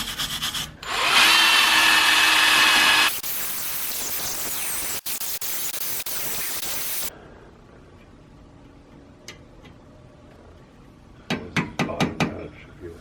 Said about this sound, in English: Make sure you scrub down the hub of the wheel with a wire brush before you put the new rotor on